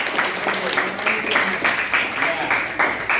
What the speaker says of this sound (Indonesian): Kasih tepuk tangannya kalian pertama.